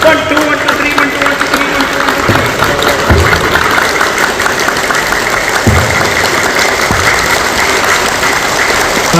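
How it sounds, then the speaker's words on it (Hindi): A crowd clapping hands together at a gathering, dense steady applause with a few louder claps standing out, continuous and loud over a low background rumble. "इस तरह से तालियां बजाएं।"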